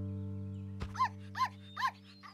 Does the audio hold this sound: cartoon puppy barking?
yes